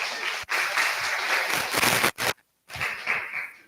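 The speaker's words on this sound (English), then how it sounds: "Big round of applause." An audience at a tech summit applauds after a talk, a dense wash of clapping that holds steady, breaks off briefly, then picks up again before fading.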